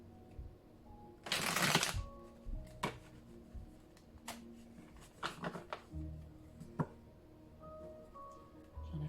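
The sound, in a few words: tarot cards being shuffled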